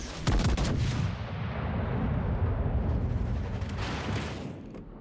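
Booming battleship artillery salvo in a naval combat video game, several heavy gun blasts fired in quick succession near the start, then a long rumbling roll that slowly fades, no voices.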